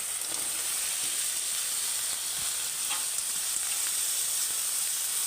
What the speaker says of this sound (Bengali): এবার আমি ডাঁটাগুলো দিয়ে দিচ্ছি